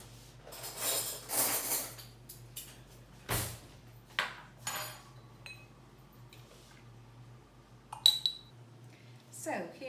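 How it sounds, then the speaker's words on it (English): Spoon scraping and scooping paste into glass jars in a home kitchen, with scattered clinks of metal against glass and small knocks, quiet and intermittent, alongside occasional faint speech. "So let's pop some of this in the jars. just grab a spoon."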